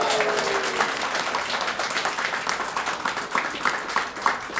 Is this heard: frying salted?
no